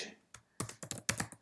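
A short run of keystrokes on a computer keyboard: one isolated tap, then several quick, close, crisp clicks in a brief burst.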